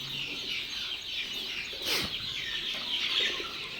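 Chickens in a farm shed give a few soft clucks and chirps, with one louder call near the middle over a steady background hiss; no one speaks.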